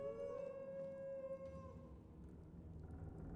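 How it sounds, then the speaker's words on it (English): Eerie howling from caged werewolves in the Skyrim video game: a sustained, wavering tonal wail that fades after about two seconds into a low ambient rumble, with no talking. "I'm getting weirded out by these howling sounds"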